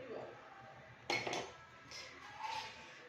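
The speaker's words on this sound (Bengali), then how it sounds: "ঢাকা দিয়ে দিচ্ছি আবার।" A metal lid clanks down onto a cooking pot of fish curry with boiling potatoes, a sharp double clatter followed by faint lighter clinks, with someone speaking quietly around it.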